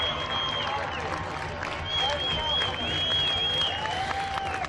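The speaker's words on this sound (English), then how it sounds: "they're getting a great response from the crowd" Crowd at the 1995 Long Beach Lesbian and Gay Pride Parade applauding and cheering steadily along the route, a dense continuous wash of clapping with whistles and voices mixed in.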